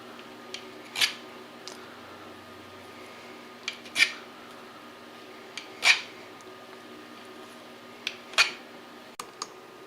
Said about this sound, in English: The other thing that we can do is use a file and put a couple of cuts into the part.